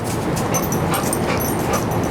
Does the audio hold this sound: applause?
no